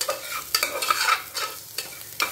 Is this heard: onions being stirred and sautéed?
yes